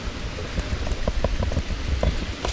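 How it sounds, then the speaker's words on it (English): Steady rain falls outside during cooking, a soft continuous patter with scattered drips, moderately loud and heard alone. "Nice and rainy out there, you hear it?"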